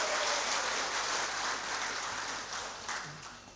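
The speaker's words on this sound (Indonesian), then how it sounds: "Aja tepuki maneh nggarai dawa." An audience at a school principals' installation ceremony applauds, a soft, diffuse wash of clapping that stays steady before slowly fading, heard at a distance with no voices.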